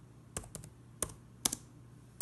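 A handful of sparse, quiet keystrokes on a computer keyboard while text is typed, single and paired taps spaced irregularly over a couple of seconds.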